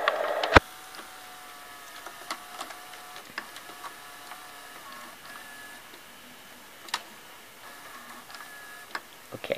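An 1980s Realistic VCR mechanism stops, giving a distinct clunk followed by soft scattered ticks and clicks over a faint, quiet motor whir, with another mechanical knock a few seconds later.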